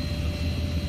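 Helicopter engine droning steadily, likely in a video game, with a low rotor rumble and a constant whine running through the whole moment while hovering under a tree line.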